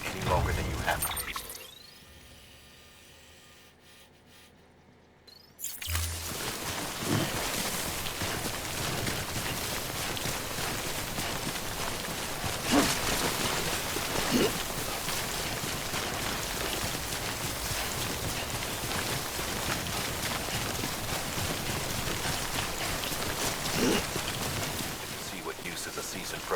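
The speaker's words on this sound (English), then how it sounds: "Don't stay out in the rain any longer than you have to." Timefall rain in the video game Death Stranding, a steady heavy patter on surfaces after a brief quiet start, continuing under occasional speech.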